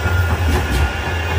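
A loud, close tram rumbling past on a Manchester street, with a heavy low-frequency drone, broadband rolling noise and a faint rising squeal partway through.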